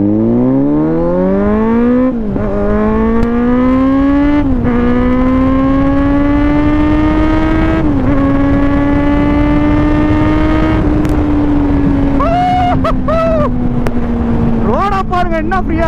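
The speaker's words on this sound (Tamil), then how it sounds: "நீங்களே Z900 சவுண்டை கேளுங்க" A 2024 Kawasaki Z900 motorcycle engine accelerates hard on an open road, its loud, close roar climbing in pitch through several gear shifts, with wind rush underneath and a couple of quick revving blips near the end.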